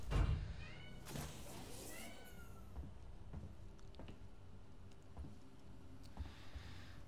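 A house cat meows a few times, short rising cries heard at moderate distance over a faint room hum, with soft knocks and a clunk at the start.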